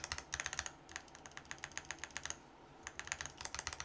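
Typing on an ND104 mechanical keyboard: rapid clustered keystrokes in bursts with a short pause midway, close and clear, no voices.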